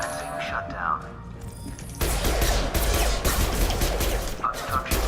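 Gunfire erupts in a Mass Effect 2 firefight, a dense continuous barrage of shots and impacts that starts abruptly and stays loud, with game voices talking over the shooting.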